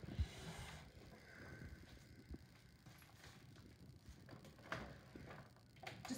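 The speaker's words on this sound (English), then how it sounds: "Now I'm going to stitch those on the sewing machine." Faint, steady mechanical clatter of a sewing machine stitching, a rapid rhythmic ticking that runs on its own without any talking.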